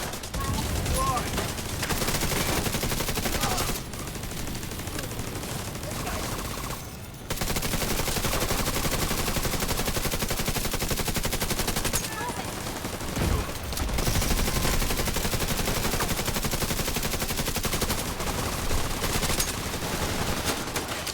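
Rapid video-game gunfire from a team shooter with turrets and control points, dense bursts almost continuous for the whole stretch with brief lulls, loud and close, with game sounds layered underneath.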